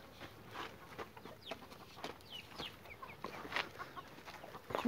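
A rooster named Adán and his hens cluck near a farm pen. Scattered throaty clucks and chirps repeat close by against a quiet rustling background, with no talking.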